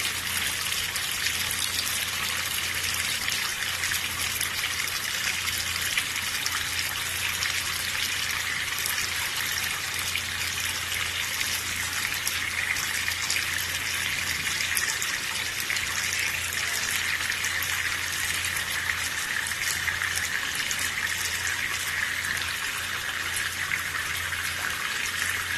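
Tap water runs steadily during handwashing, a continuous close gushing hiss with no breaks or voices.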